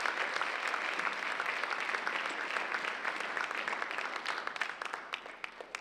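Sustained audience applause after a university leadership lecture, steady dense clapping from a large crowd, loud and continuous throughout with a few sharper individual claps near the end.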